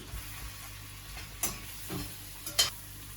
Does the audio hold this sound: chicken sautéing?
yes